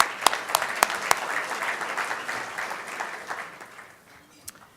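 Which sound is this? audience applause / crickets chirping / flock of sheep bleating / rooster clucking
audience applause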